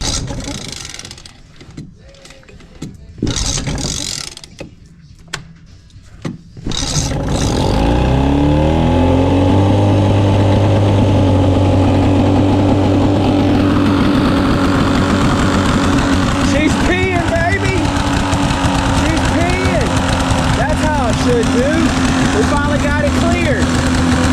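A Carolina Skiff's outboard motor cranks a few times with short bursts, then catches and settles into a loud, steady idle that carries on with slight shifts in pitch, while voices talk underneath.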